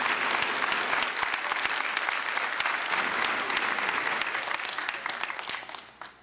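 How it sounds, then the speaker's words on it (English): Dense, sustained applause from a large commencement crowd cheering the graduating class at East Georgia State College, steady and loud for about five seconds before tapering off at the end. "give them a big round of applause"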